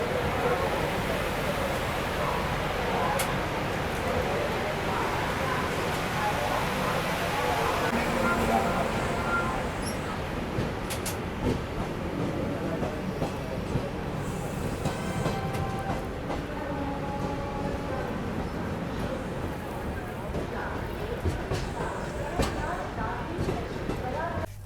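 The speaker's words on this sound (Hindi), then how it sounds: "फाइनली अपनी महाबोधि एक्सप्रेस अभी निकल रही है प्रयागराज जंक्शन से" Mahabodhi Express pulling out of Prayagraj Junction at night, a steady rumble of the moving train with rhythmic wheel clatter running throughout, heard from inside a coach with voices in the background.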